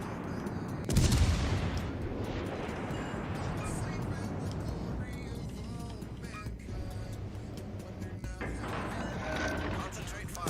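Warship main battery fire in World of Warships, a sharp loud salvo followed by rumbling naval combat noise, with a player talking over it.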